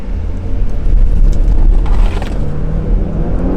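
Tuned 2020 Porsche Macan S with a catless downpipe accelerating hard, a deep, steady engine roar heard from inside the cabin that holds strong throughout, with some wind noise and no talking.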